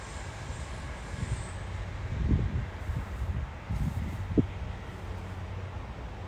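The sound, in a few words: trains and planes passing overhead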